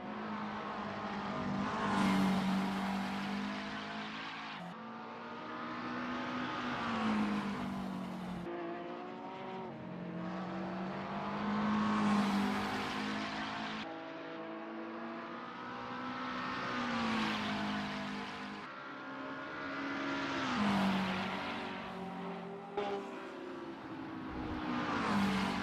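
GT3 race cars, among them a McLaren 650, roar around Tamiami Park in a racing video game, engines rising and falling in repeated revving sweeps, loud and continuous with occasional tire squeal.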